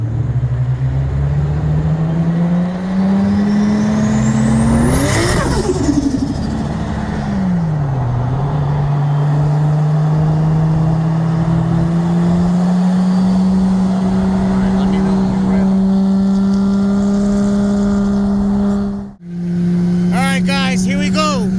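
A 1995 Toyota Supra single turbo on E85 and a 2020 BMW M8 Competition race from 60 mph, engine note climbing through gears with loud, close revving, brief dips at shifts and a sharp cut near the end.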